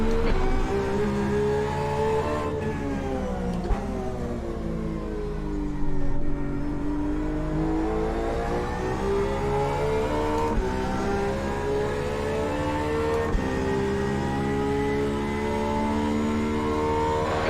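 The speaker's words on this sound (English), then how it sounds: "Okay, Al, it's a faster class car approaching." Race cars at the 24 Hours of Daytona roar continuously, a faster class car approaching with rising and falling engine pitch as cars pass, loud and sustained with no talking.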